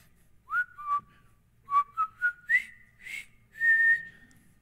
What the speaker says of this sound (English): I'm going to do a little whistle, see if you guys will know this.